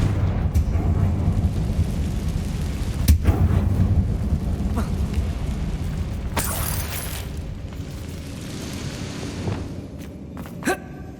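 Confringo blasting spell in the Hogwarts Legacy video game, booming explosive blasts with sharp cracks and bursts of debris, heavy low rumble early then scattered loud pops and a final sharp crack.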